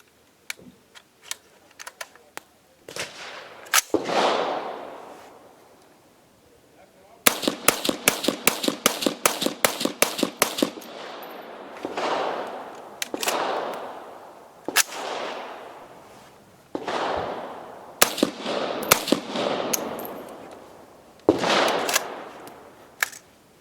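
An AR-15 rifle chambered in 7.62x39 fires rounds outdoors, with single sharp reports, a rapid string of about ten shots, then more spaced shots, each loud and close with short echoing decay.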